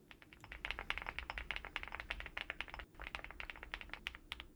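Thocky mechanical keyboard with ceramic keycaps typing fast and continuously, a dense run of crisp, clacky keystrokes at moderate level with one brief pause.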